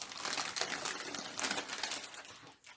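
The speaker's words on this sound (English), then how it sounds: "and then you just peel off the greaseproof paper." Greaseproof baking paper being peeled off freshly ironed fabric, a close, bright, continuous crinkling and tearing rustle that runs for a few seconds and tapers off, with no speech.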